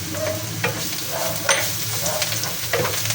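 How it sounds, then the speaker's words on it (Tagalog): Onion frying in a pan for an Indonesian sambal embe, with garlic being added and stirred in: a steady close sizzle broken by several scraping stirs, with no talking. "at kung ganyan na po yung ating onion, ilalagay na po natin yung ating garlic."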